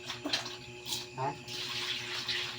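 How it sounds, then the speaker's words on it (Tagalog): Tap water runs steadily as plates and utensils from a barbecue are washed with powder detergent, a soft, close splashing stream while a person talks over it. "maghuhugas na tayo ng ating mga ginamit sa pagbabarbecue"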